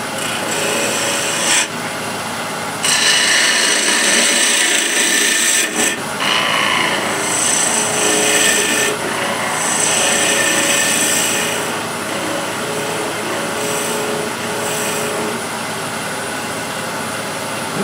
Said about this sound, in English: And I'll use a spindle gouge just to get this done.